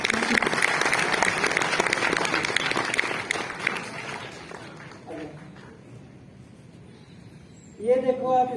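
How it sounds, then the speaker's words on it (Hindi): Classroom audience claps for a student during a science lecture, brisk clapping for about four seconds that thins and dies away, followed by a teacher's voice speaking. "तालियां बजाओ भाई।"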